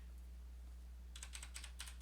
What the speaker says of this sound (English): Let's try to press the keys.